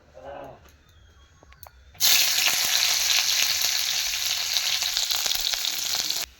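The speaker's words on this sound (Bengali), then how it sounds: "এবার আমি ক্যাপসিকামটা ভাজে নিব।" Capsicum for a vegetarian chowmein hits hot oil in a pan and bursts into a loud, steady sizzle that runs unbroken after a few quiet kitchen sounds, close and bright throughout.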